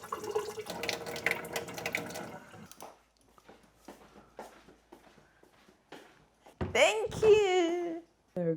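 Running tap water rinsing food ingredients in a kitchen sink, a steady splashing stream in the first seconds that gives way to quieter handling sounds, with voices talking at times.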